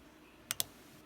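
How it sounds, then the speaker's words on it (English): Two quick, sharp clicks of the switch on a 3-in-1 LED flashlight work light sound close up, a brief pair about a tenth of a second apart in an otherwise quiet room. "Flashlight on this end is your first click."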